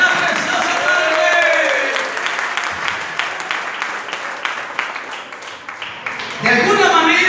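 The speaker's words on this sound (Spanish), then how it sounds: "Fuerte esa ofrenda de palmas al Señor esta preciosa tarde." Congregation applause during an evangelical church service, a sustained burst of clapping that fades into scattered claps before swelling again at the end, with a preacher's voice over the top.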